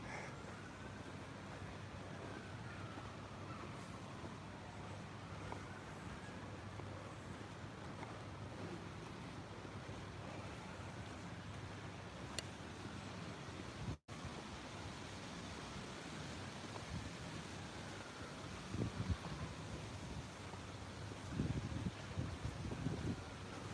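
Steady wind buffets the microphone outdoors on a walk near a river path, a broad continuous roar that stays loud and even throughout with no talking.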